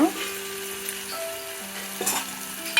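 Sweet corn kernels sizzling in a hot pan, a short close crackle and hiss with faint stirring and a few brief tonal squeaks, no talk.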